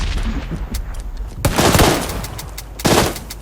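Gunfire in the video game PUBG Lite, with sharp close automatic bursts breaking out in two loud volleys after quieter scattered shots, fired in rapid succession.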